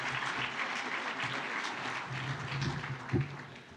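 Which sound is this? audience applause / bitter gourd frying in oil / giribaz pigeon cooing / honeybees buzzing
audience applause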